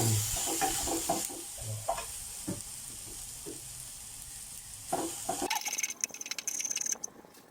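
Cooked brown rice is stir-fried in a hot pan, with loud sizzling and repeated scraping and tossing strokes of a spatula, close up, and a sharper burst of frying near the end.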